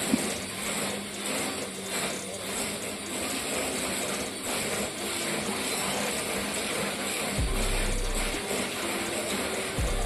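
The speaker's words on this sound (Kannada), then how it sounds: "ಸಕ್ಕರೆ ಹಾಕೊಂಡು ಈಗ ಇದನ್ನ ನಾವು ಬೀಟ್ ಮಾಡ್ಕಿ, ಮಿಷಿನ್ ಇದ್ರಾಗ ಬೀಟ್ ಮಾಡ್ಕ ಮಾಡಿ ಬೀಟ್ ಮಾಡ್ಕಣಿ." An electric beater machine whirs steadily while mixing half a cup of sugar for oven-free cupcake batter, a continuous close mechanical rattle that keeps going throughout the clip without any talk.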